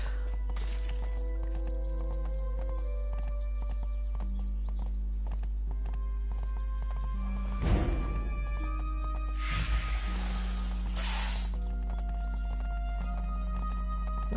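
Horse hooves clip-clopping while riding along a road in the video game Bless Unleashed, a steady, fairly faint rhythmic trot under background music, with a couple of louder bursts.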